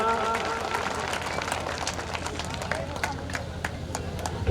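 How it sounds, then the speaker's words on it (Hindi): An audience at a talent felicitation ceremony welcomes the MLA with steady applause, a dense patter of many hands clapping, heard together with crowd noise and voices. "एक बार जोरदार तालियों से अभिनंदन करें MLA साहब का।"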